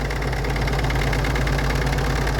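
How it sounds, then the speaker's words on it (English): Close up, a Peugeot DV6 1.6 diesel engine idles in an R56 Mini One D, giving a steady, loud mechanical clatter with an even low rumble and no talk. "It's a Peugeot dv6 engine."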